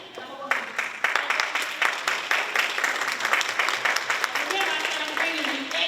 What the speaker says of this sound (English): I'm glad I get an applause today